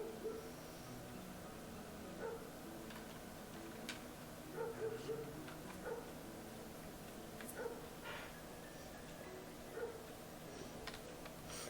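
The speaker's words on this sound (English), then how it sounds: "I hear barking outside." Barking from outside, several small yips scattered under a steady background hum, faint and indistinct.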